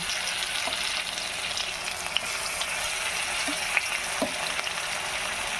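Ginger, onion and garlic paste fries in oil for a rohu fish curry, making an even, dense sizzle close by with a few faint clicks of a spoon against the pan.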